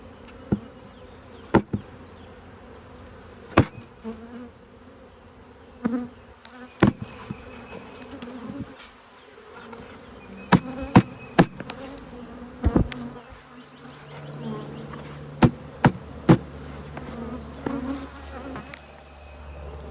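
Honey bees hum steadily around a spring hive as it is opened, a soft continuous buzz broken by sharp knocks and clicks of frames and tools.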